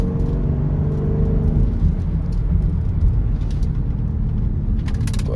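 A 2014 Jeep Grand Cherokee with a Corsa exhaust, cold air intake and Diablosport tune drones steadily while driving, heard from inside the closed cabin as a constant low, loud rumble.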